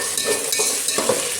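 Green chillies, carrots, peas and onions stir-frying together for bagara rice, a close, loud, continuous sizzle with stirring scrapes and no voices.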